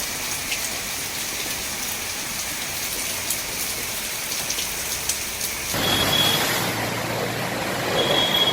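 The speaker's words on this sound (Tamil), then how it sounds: "தமிழகத்தில் சென்னை உள்ளிட்ட பல மாவட்டங்களில் கனமழை பெய்து வருகிறது" Heavy monsoon rain pouring in Chennai, Tamil Nadu, a loud continuous hiss of drops on surfaces that swells louder partway through, with faint high electronic tones or beeps in the background.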